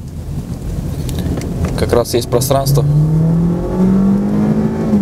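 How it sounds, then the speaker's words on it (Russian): A 2016 Kia Sportage crossover with a 2-litre petrol engine accelerating, its engine note rising steadily in pitch and growing louder, heard from inside the car while someone talks briefly over it. "Сейчас проверим, хватает ли 2-литрового бензинового мотора этому кроссоверу."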